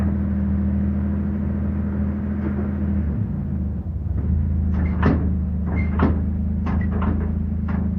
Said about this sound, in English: Back the truck up.